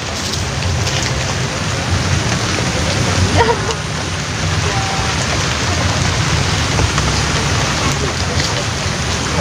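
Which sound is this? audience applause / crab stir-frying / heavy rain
heavy rain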